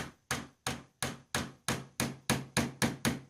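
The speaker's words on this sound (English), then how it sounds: "with a hammer just lightly, I'm just going to tap the axle down" A hammer lightly taps an axle into a small solar car, about ten evenly spaced sharp knocks, close and clear with nothing else in between.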